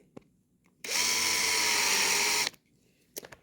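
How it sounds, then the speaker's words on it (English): Power drill driving into a pre-drilled hole in a writing desk, one loud close whine lasting under two seconds between faint handling knocks. "And I will get to drilling."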